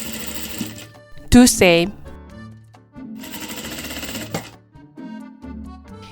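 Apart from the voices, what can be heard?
sewing machine stitching a fabric face mask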